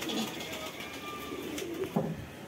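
Soft pigeon cooing close by, a few low murmuring calls over a steady background hiss, with a slightly louder coo near the end.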